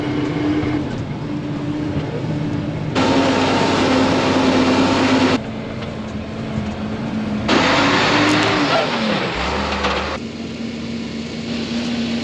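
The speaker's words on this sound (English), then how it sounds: "I will say it is pretty fun riding in this truck." A truck driving across a farm field at harvest, its engine drone steady and loud from inside the cab, shifting pitch and intensity in blocks as it rolls over rough and smooth ground, with no talk.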